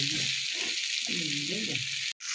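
A steady, bright sizzle of eggplant frying in hot oil, continuous and close, with a brief break near the end.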